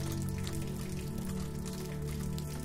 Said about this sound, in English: the rain's tempo shifts, a soothing, steady presence